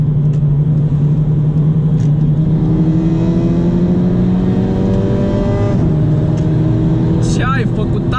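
A Volkswagen Golf GTI with about 275 hp and a turbo petrol engine climbs through the revs in a rising, accelerating drone, loud and close from inside the car, with voices talking over it.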